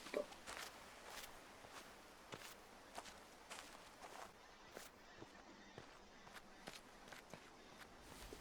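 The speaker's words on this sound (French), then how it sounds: "les bruits de pas, ça me stresse" Footsteps in the video game The Witness, a quiet, steady series of soft steps on a hard surface, roughly two per second, with faint ambient background and no talking.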